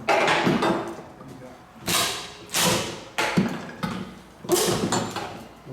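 A Halligan bar forcing open a door during forcible-entry training: about five heavy, loud strikes and thuds land in close succession, each with a sharp crack and a rough scraping tail.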